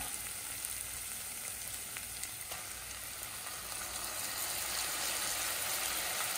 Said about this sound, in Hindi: हम इसी में ही एक दरमियानी साइज का टमाटर डाल देंगे आप इसे बारीक काट लें